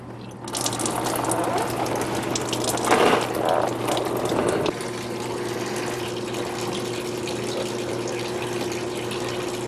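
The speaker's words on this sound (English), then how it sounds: "recovery bucket to drain the radiator and cooling system" Coolant drains from a car radiator into a recovery bucket, a steady, loud, close splashing pour of liquid with a constant low hum beneath it throughout.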